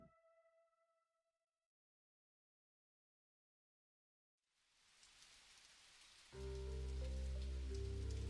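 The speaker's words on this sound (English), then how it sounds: "That night, it rains. The sound is light and echoes clearly through the house's thin walls." Light rain patters on a house with thin walls, fading in softly after a stretch of silence. A loud, low steady drone then joins and largely covers it.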